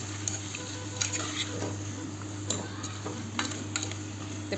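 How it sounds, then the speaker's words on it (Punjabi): Potatoes and peas roasting in masala in a pan, a soft steady sizzle with occasional scraping clinks of the stirring utensil against the pan, fairly quiet over a constant low hum. "ਇਹਨੂੰ ਐਦਾਂ ਹੀ ਮਸਾਲੇ ਦੇ ਵਿੱਚ ਇਹਨਾਂ ਨੂੰ ਭੁੰਨਾਂਗੇ ਕਿ ਮਸਾਲਾ ਆਲੂ ਮਟਰਾਂ ਦੇ ਉੱਪਰ ਵੀ ਕੋਟ ਹੋ ਜਵੇ"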